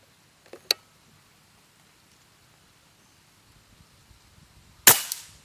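A single sharp air rifle shot near the end, loud and close, preceded by a faint click and a couple of small mechanical taps.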